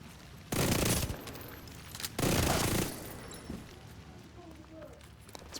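Shotgun fire in a video game: two loud, broadband blasts about a second and a half apart, each with a short ringing tail, over a low game background.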